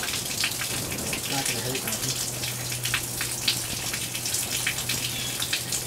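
Water drains from the engine block of an antique tractor being readied for winter storage, a continuous splashing trickle running throughout while someone briefly speaks.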